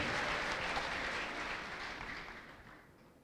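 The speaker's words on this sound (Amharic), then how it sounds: "እስቲ ለጌታ ለኢየሱስ ክርስቶስ ከፍ ያለ ክብርና እልልታ ስጡ።" A church congregation applauds in praise of Jesus with dense, even clapping that starts full and gradually fades toward the end.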